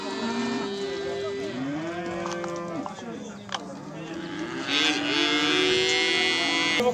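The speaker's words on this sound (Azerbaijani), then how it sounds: "bax, belə bir dana var, qardaş." A calf moos repeatedly at a busy livestock market, its drawn-out calls rising and falling over steady crowd murmur, with another cow lowing later on.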